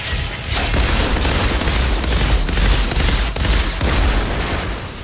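Mortar rounds exploding in the video game Outriders: Worldslayer, a dense rumbling barrage of loud, overlapping booms and crackling blasts that barely lets up for several seconds.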